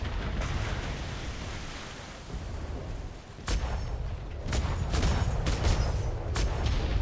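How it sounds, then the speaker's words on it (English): Ship cannons fire from the starboard side during a naval battle in a game, a broadband booming roar with several sharp heavy blasts in the second half, layered over continuous rumbling battle noise. "Keep firing, starboard side."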